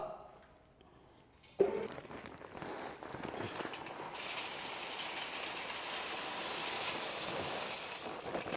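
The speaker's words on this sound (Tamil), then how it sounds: "நம்ம இப்போ வந்து வேப்ப எண்ணெய் வேப்பங்கொட்டையை ஆட்ட போகிறோம்" A manual-automatic marachekku cold-press oil machine crushes neem seeds, starting with a thump and then settling into a loud, steady mechanical hiss and grinding drone close by.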